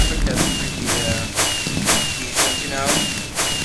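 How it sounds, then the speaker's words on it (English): Fireworks burst in Minecraft in a loud, regular series of about eight sharp explosive pops roughly half a second apart, each with a brief crackling tail. "the fireworks a bit loud"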